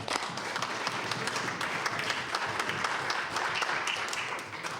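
Warm applause fills the House of Assembly chamber as legislators clap steadily for a guest rising in the gallery, a dense, sustained wash of many hands that continues evenly throughout.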